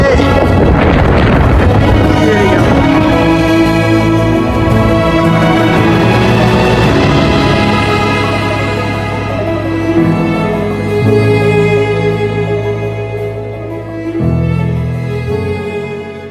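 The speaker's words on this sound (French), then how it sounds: "je vais affronter encore ce vent de ouf là, qui est à peu près par là" Strong gusting wind buffets the microphone on an autumn mountain, a loud continuous roar with rumbling low gusts that swell and ease over about sixteen seconds, with no other clear sounds.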